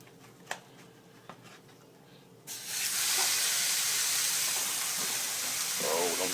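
Ground meat sizzling as it heats in a hot pan for a taco bake, a quiet kitchen start followed by a sudden, loud, steady hiss of frying that fills the rest of the clip.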